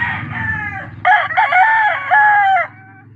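A backyard gamefowl rooster gives one loud, close crow in a long, strained, wavering cry, preceded by a brief lower call and followed by soft clucking.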